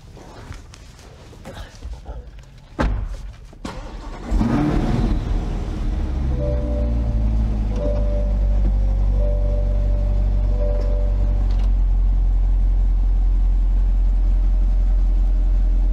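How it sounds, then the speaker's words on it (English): Power soft top of a 2020 Chevrolet Corvette C8 convertible lowering, a steady mechanical motor whine with a faint tone over the idling engine hum; a few brief knocks and some talk come first. "let's show how the top goes down."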